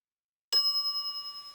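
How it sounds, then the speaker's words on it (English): A shop counter service bell in The Secret of Monkey Island gives one bright metallic ding, then a clear ringing tone that slowly decays, with nothing else around it. "I step away from the counter for 2 seconds and some idiot's already ringing that stupid bell."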